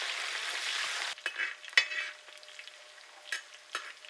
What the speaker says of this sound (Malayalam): കുറച്ച് കറിവേപ്പില ഇതെല്ലാം കൂടി ഇട്ട് നന്നായിട്ടൊന്ന് ഇളക്കി കൊടുക്കണം